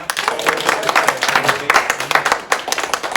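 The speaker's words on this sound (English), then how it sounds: "let's give a round of applause for Pam." A round of applause from a modest crowd at a county Democratic party event, clapping steady and fairly close, filling the whole short stretch without talk.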